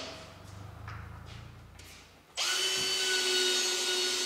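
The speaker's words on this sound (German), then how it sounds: "Einer sägt und bohrt, der andere schraubt" A power drill on wooden gate boards in a carpentry workshop starts abruptly after a few quiet knocks, then whirs loud and close with a steady high motor whine to the end.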